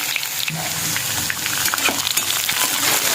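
Ground masala paste fries with curry leaves in a pan for a bhogi vegetable dish, giving a dense, close crackling sizzle with stirring throughout and no voices.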